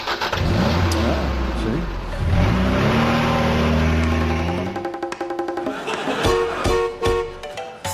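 A Y-registration Austin Ambassador car engine cranks, catches and revs loudly up close, then settles into an uneven, sputtering run, with a brief spoken word over it.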